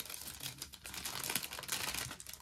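Wrapping paper crinkles and rustles steadily as a small key ring is unwrapped at a desk, a dense, close papery crackle running throughout with no talking.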